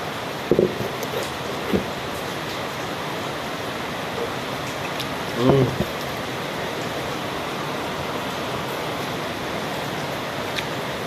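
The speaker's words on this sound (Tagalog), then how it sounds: "Lakas ang ulan. May tagas o dito sa bubong namin." Heavy rain drums steadily on a roof during a downpour in Davao del Norte, a dense continuous hiss with a few brief louder knocks and thumps standing out near the start and middle.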